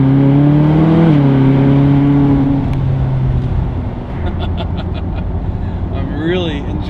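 A convertible Ferrari California with a turbocharged engine and carbon ceramic brakes accelerates hard, its strong engine note climbing and then easing back into a steady drone with wind and road noise.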